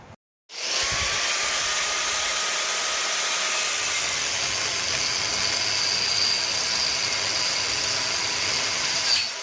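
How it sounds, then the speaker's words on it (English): An angle grinder cuts a part off a Volvo V50. After a brief silence it starts with a loud, steady high-pitched whine and grinding hiss, close and continuous to the end. "Going to nip this bit off with the grinder"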